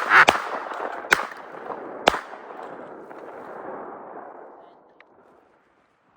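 Gunfire aimed at a flying enemy: three sharp, loud shots spaced about a second apart over a fading roaring rumble that dies away, followed by a final crack.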